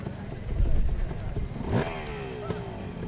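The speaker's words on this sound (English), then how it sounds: "Hear the bike revving up." A two-stroke motorcycle at a Harley-Davidson hill climb revs up, with a rising engine sweep cutting through a commentator's voice and background crowd noise at a moderate distance.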